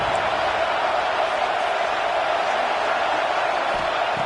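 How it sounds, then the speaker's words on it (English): Loud, steady roar of a college football stadium crowd during a red zone defensive stand, a dense continuous wash of massed voices with no pauses. "here comes the noise. This crowd is trying to inspire this defense to make a big red zone stop"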